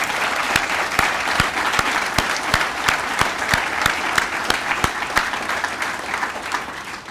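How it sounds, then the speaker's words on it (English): An audience at a military student recognition ceremony applauds, a sustained round of clapping with many distinct individual claps standing out, steady and fairly loud. "Can we just have another round of applause?"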